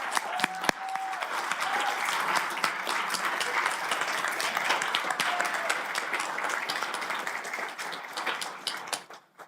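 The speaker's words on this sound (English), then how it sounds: "One more round of applause for everyone." At a county commissioners' meeting, the audience gives a round of applause for retiring and recognized employees, a moderate crowd clapping steadily and then fading out near the end.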